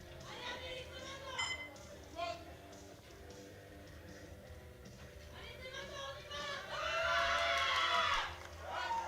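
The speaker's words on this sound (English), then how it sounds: "an hear Laura Motalen, the 76 vice champion, cheering on Amélie from the crowd." A crowd cheers and shouts at the 2025 European Open Classic Powerlifting Championships during a women's squat attempt, swelling loudly near the end beneath an announcer's ongoing commentary.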